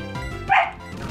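Apollo the dog lets out a single short, whiny bark partway through, a sharp begging yelp over a faint background of game music.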